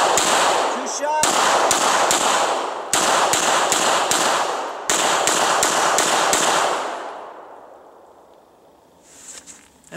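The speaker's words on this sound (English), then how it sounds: "That's a shot, 2 shots." Pistol shots from a Smith & Wesson M&P Core during a 1-2-3-4-5 shooting drill, sharp loud cracks fired in spaced bursts at a steady, deliberate pace, each with a short ringing tail, ending in quiet.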